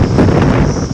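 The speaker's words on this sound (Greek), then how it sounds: "Οι ισχυροί άνεμοι που πνέουν στην περιοχή εντάσσεως 8 μποφόρ δυσχεραίνουν το έργο της κατάσβεσης." Strong gale-force wind at a wildfire site near Chania, Crete, roaring as a loud, steady buffeting across the microphone with a low, rumbling texture throughout and no voices.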